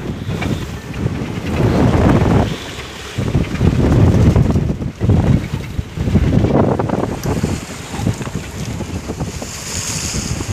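Strong wind from storm number 6 roars over a fishing trawler at sea, loud and continuous with gusting surges, water wash and buffeting on the microphone throughout.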